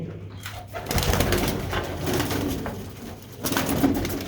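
A pigeon coos softly in a pigeon loft, low murmuring calls mixed into a constant rustling background noise, with no talking.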